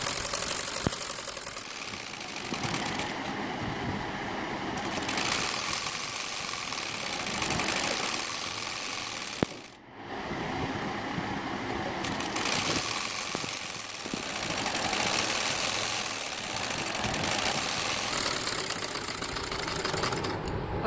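A sewing machine runs double stitching along a kameez hem in long, fast, continuous whirring bursts with brief slowdowns between passes. The sound is close and steady.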